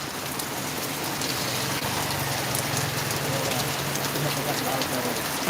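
Heavy rain pours down in a steady, dense hiss that stays loud and unbroken throughout, with no voices heard.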